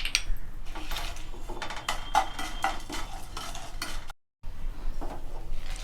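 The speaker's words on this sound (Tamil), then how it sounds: "மிளகாய், உப்பு, பெருங்காயம் வறுபட்டுருச்சு." Chili, salt and asafoetida roasting in a pan for sesame podi, heard as scraping stirs of a spoon against the metal with faint sizzling, close and quiet, with a short gap of silence.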